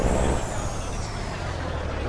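A Freightliner truck in American Truck Simulator gives a steady, loud airy hiss, like an air brake release, over a low engine rumble that runs unbroken through the whole moment.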